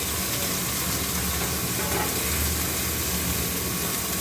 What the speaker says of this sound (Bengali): এই হচ্ছে সয়াবিনগুলোকে ভেজে নিচ্ছি, ভালো করে ভেজে নিচ্ছি।